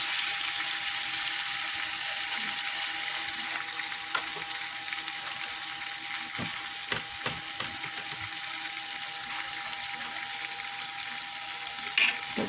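Spices for a koi fish curry fry and get stirred in a pan, a loud, continuous hissing sizzle with occasional soft scraping knocks of a spoon.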